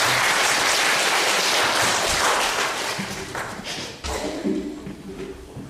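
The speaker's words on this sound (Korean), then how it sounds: "우리 하성경 사님 나오실 때 박수로 한번 우리 환영합니다" A church congregation applauds to welcome a missionary, with loud, continuous clapping that thins out halfway through, followed by a few thumps and footsteps.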